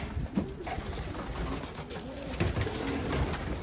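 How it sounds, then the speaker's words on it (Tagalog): Pigeons at a loft, several soft coos close by over a background of shuffling and rustling, brief and fairly quiet. "Lumabas na po kasi mga kalapate kaya hindi ko na ganun mapakita sa inyo"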